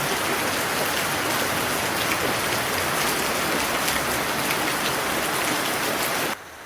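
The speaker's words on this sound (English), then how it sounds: "sitting on my porch outside, listening to the rain" Steady, heavy rain pouring down on surfaces nearby, a dense constant hiss with no voices, cutting off abruptly just before the end.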